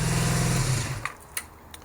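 Cafe racer motorcycle engine running in a loud, buzzing idle that cuts off abruptly after about a second, followed by a few sharp clicks and knocks in near silence.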